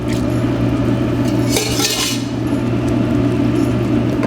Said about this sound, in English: I'm gonna keep adding a couple more ladles of our roasted turkey stock